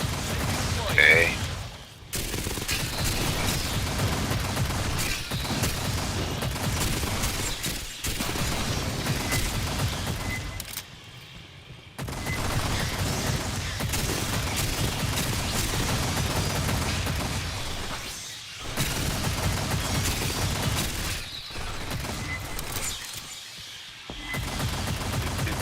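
Rapid bursts of gunfire from the Aliens: Fireteam Elite video game as players fight off xenomorphs, loud and sustained with brief pauses between volleys, mixed with occasional talk.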